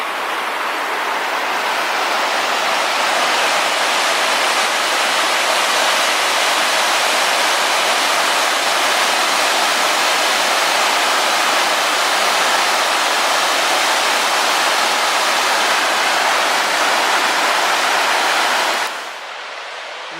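The Toxaway River rushes below a suspension bridge in a loud, constant roar for about twenty seconds, then drops off abruptly near the end.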